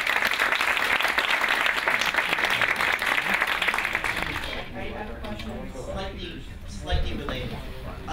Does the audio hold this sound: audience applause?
yes